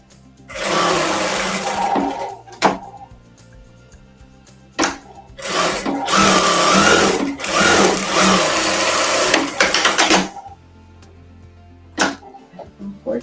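A sewing machine stitches fabric for a carrot-shaped eco bag in loud, fast whirring runs of a few seconds each. The runs are broken by short pauses and sharp clicks, with someone talking quietly in the gaps.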